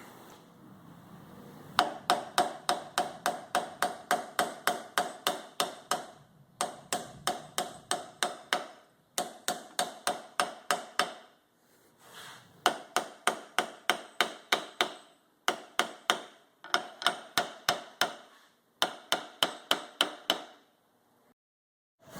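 Rapid metallic hammer blows in bursts of about eight to ten strikes, closing up a Bilstein 7100 shock absorber, pausing briefly between each run, close and fairly loud with no talking.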